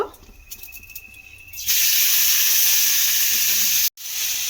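Pumpkin dropped into hot oil with asafoetida and nigella seeds, a sudden loud sizzle bursting in after quiet stirring and holding steady, briefly cut off near the end before resuming.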